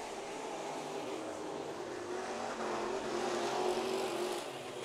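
Race cars battle on a dirt oval track during heat races at Santa Maria, with several engines roaring together in a loud, continuous, rising-and-falling drone that stays close throughout.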